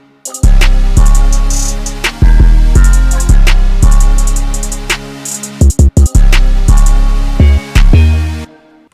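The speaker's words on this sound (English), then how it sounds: "So for the hi-hats, I just added some like triplets." FL Studio trap beat built from a sung pain-style acapella, with punchy snare hits, deep 808 bass and rapid triplet hi-hat rolls, played loud and alone with short pauses and stops for bounce.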